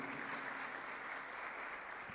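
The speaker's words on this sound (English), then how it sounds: "Can we get some applause?" Steady audience applause at a roundtable panel session of an education forum, a dense even wash of clapping heard alone for the whole stretch at moderate distance.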